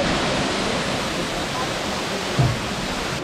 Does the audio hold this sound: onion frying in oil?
no